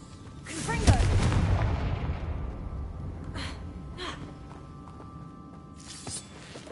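A Confringo blasting spell from Hogwarts Legacy goes off with a loud booming burst and a rushing decay, followed by a couple of fainter whooshing spell effects, with a voice shouting over it.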